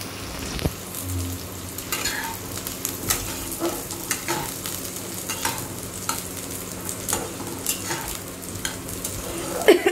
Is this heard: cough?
no